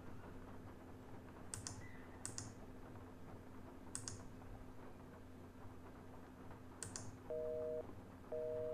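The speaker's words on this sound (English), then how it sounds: "Busy signal." Telephone busy signal in a Nancy Drew computer game, two short bursts of steady repeating tone near the end after a few sharp keyboard-like clicks, over a low constant background hum.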